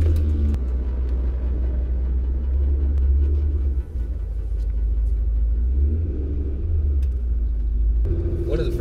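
A car drives along the road with a deep, steady engine rumble close by, holding a constant drone with slight swells as it moves.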